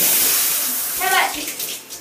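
Shower water running steadily during a rinse, a broad hiss with some splashing changes partway through, close and fairly loud, with faint voice sounds in the background.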